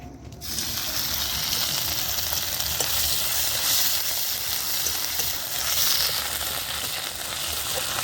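Ginger-chili paste and asafoetida dropped into hot oil burst into a loud sizzle that holds steady and close for several seconds, with faint stirring underneath.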